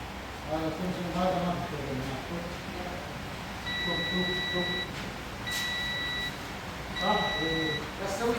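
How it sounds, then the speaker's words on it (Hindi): Short high-pitched multimeter continuity buzzer beeps sound in three steady bursts, each about a second long, while testing MOSFETs on a car ECU board, as someone talks throughout. "सारे पे बज़र हो रहा है।"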